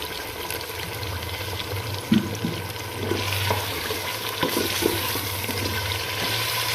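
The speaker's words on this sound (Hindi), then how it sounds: "अब हम इसमें ऐड कर देंगे पानी।" Water is poured into a chicken karahi cooking pot, giving a steady rushing, splashing wash with a few louder splashes, close by and heard alone.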